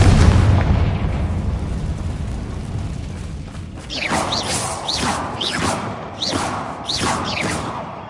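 A Confringo fire spell from Hogwarts Legacy bursts in a loud, booming explosion, followed by rolling rumble and a series of crackling, whooshing bursts that continue to the end.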